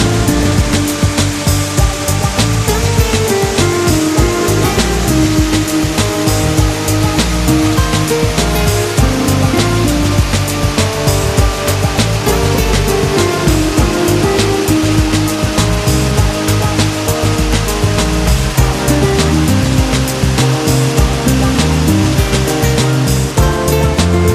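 A waterfall on Ham Rong mountain in Sapa, heard from a viewing bridge, gives a steady, loud, dense rush of falling water that holds constant throughout.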